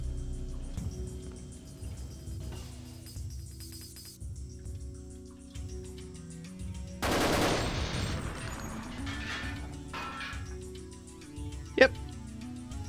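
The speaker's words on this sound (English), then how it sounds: "Get rid of the spiders with this big-ass machine gun" A heavy machine gun in Deus Ex fires at spiders in an underwater base, with repeated low bursts of gunfire, a louder crashing flurry partway through and a sharp crack near the end, under a player talking.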